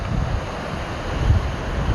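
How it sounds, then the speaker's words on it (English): Rushing water from waterfalls tumbling over rock along a rocky mountain trail in Rocky Mountain National Park, a steady, close broadband roar that holds throughout without any voices. "Waterfalls."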